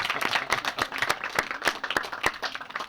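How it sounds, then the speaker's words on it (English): High school students in a Burlington school hall applaud their teacher at a campaign event, close, crisp individual claps in an uneven rhythm over a lighter bed of scattered applause, loud and with no talking. "You should applaud for your teacher."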